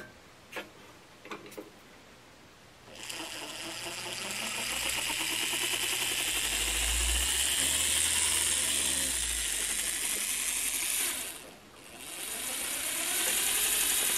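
A Boxcab model locomotive running in reverse: after a few faint ticks comes a steady mechanical whir and ratcheting gear clatter that swells, dips briefly near the end, then resumes.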